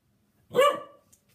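One sharp dog bark, close and fairly loud, rings out alone between stretches of silence.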